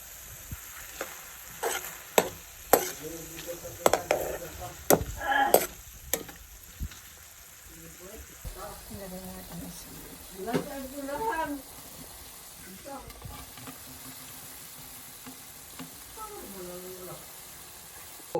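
Soy sauce hits a hot, smoking pan and sizzles, with bursts of frying and stirring clatter early on, then softer crackle under a speaking voice.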